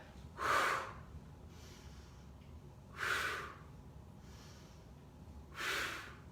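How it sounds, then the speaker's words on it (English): Three slow, airy exhales through pursed lips during a Pilates knee-to-nose ab exercise, evenly spaced and fairly close, each a soft breathy hiss rising and fading with quiet pauses between and no talk. "Use your straw breath"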